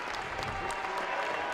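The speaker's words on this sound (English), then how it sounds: "Nice round of applause for the seniors exiting the game" Steady crowd applause in a high school basketball gym for seniors leaving the game during Wapakoneta vs. Celina, a dense sustained clapping that stays even throughout.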